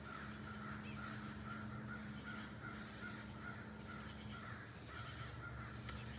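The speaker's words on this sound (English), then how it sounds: "A murder of crows." Crows caw repeatedly in a steady rhythm from a moderate distance outdoors, over a constant bed of crickets and insect buzz, with no voices.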